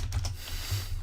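Quick, light taps on a calculator keypad, several presses in rapid succession over a low background hum, close and fairly quiet.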